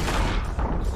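Gunpowder kegs blowing up in Sea of Thieves, one detonation setting off another, a loud sustained booming roar filling the whole second.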